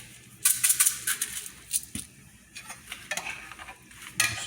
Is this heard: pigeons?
no